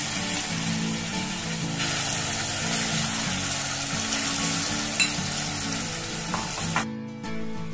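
Kashmiri red chili powder and curd mixture sizzles loudly and steadily in hot oil for Amritsari street-style paneer bhurji, a dense continuous frying hiss that cuts out abruptly near the end.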